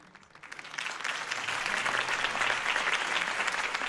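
Crowd applause after a campaign speech in the Batman Telltale video game, a dense sustained clapping that swells up within the first half second and holds steady and loud throughout.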